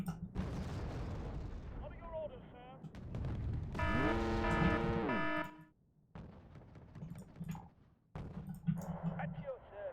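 Artillery fire in Wargame: Red Dragon, with heavy booms and bursts rumbling through the mix while someone talks over much of it.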